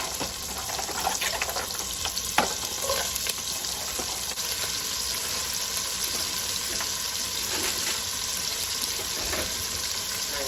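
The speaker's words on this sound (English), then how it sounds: "Now I'm going to add in my onions. Onions and celery are going in right now." Onions and celery fry in a stew pot after the beef has been browned and removed, giving a steady, moderately loud broadband sizzle with a few faint stirring knocks and no talk.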